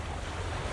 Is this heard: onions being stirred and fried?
no